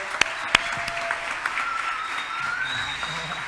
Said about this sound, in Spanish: los recibimos con un fuerte aplauso a uno de nuestros invitados